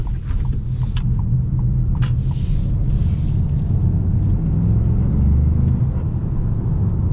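Turbocharged engine of a 2026 Ford Maverick Lobo compact pickup driving on the road, a steady loud rumble with a faint airy turbo whoosh rising above it.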